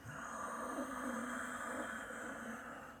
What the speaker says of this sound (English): If you want to add ujjayi breath, victorious breath